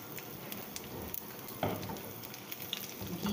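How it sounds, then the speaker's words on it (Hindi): Whole red chillies and cumin seeds sizzle in hot ghee for a masoor dal tadka, a soft, steady crackle heard up close with a few brief pops and stirring knocks. "साबुत लाल मिर्च डाली जाएगी इसके अंदर, जीरा है वो डाला जाएगा"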